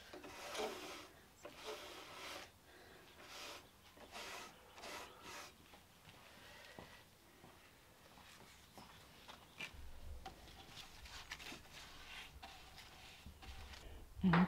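Hand sanding of an old, rough wooden shelf unit rescued from the trash, with steady rasping strokes repeating at a fairly even rhythm, quiet and close, with no talking.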